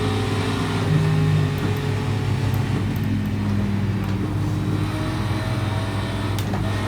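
Racing video game car engine droning steadily at high revs on a tricky track, a continuous loud motor hum with slight pitch shifts throughout, no talking.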